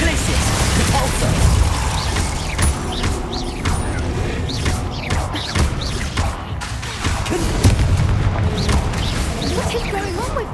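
Spells cast in combat in Hogwarts Legacy, a dense run of magical blasts, crashes and impacts layered over game music and ambience, loud and busy throughout the fight.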